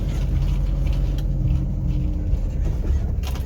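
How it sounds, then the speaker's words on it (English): Steady low rumble of a car engine and tyres as the vehicle rolls slowly into a hospital parking spot, close and continuous with no talking. "I'm gonna park back here"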